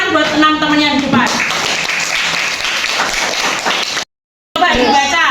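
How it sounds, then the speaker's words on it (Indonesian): Schoolchildren in a classroom clap together for six classmates standing at the front, in a burst of close, lively hand-clapping that follows speech and lasts a few seconds before a brief cutout and more talking. "Tepuk tangan buat 6 temannya di depan."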